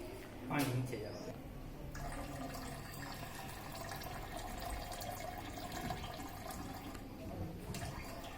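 A steady rush of water from an automatic fire safety robot spraying onto a fire during a live demonstration, heard continuously under someone talking, with a louder splash near the start.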